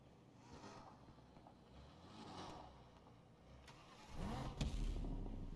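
A heavy, tanky truck in Need for Speed Unbound off-road, its engine droning at mid pitch and surging louder into a rev near the end, with a few thuds along the way, no talk.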